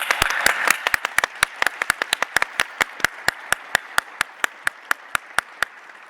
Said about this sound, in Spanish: quiero rendirle un homenaje particular y pedir para ella un aplauso